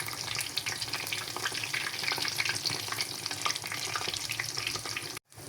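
A fish chop fries in hot oil, making a dense, continuous crackling sizzle close by, with scrapes as it is turned over, ending in a brief cut to silence.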